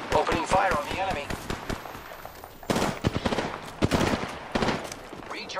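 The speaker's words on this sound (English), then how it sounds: "Firing on them." Rapid bursts of close gunfire crack out in the battle royale shooter Apex Legends, sharp repeated shots in clusters, with voices speaking over parts of the action.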